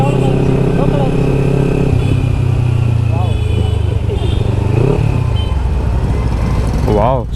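Kawasaki Ninja 300 fitted with an Akrapovic exhaust running close by, a steady engine drone with short throttle blips rising and falling, while someone talks excitedly over it.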